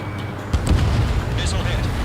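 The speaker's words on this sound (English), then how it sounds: "Mage 2, missile launch." A missile launches in the jet combat game Ace Combat 7: Skies Unknown: a deep, rumbling whoosh kicks in abruptly after a brief pause and continues steadily under faint high cockpit tones.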